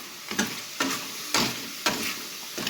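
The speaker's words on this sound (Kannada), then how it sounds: "1 ಪ್ಯಾಕೆಟ್ ಮಟನ್ ಮಸಾಲ ಹಾಕಿ ಚೆನ್ನಾಗಿ ಫ್ರೈ ಮಾಡ್ಕೋಬೇಕು." Mutton masala frying in a pan for mutton sambar, stirred with steady scraping strokes about every half second over a constant close sizzle, with no voices.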